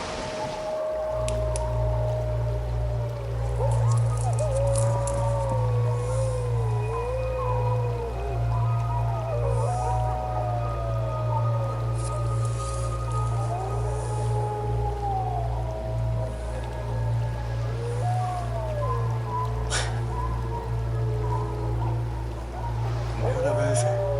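Several wolves howl at night in long, overlapping, wavering cries that rise and fall, moderately distant, over a constant low hum.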